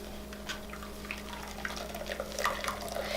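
Homemade almond milk drips and trickles from a squeezed nut milk bag into a container, giving quiet, irregular patters and splashes close by.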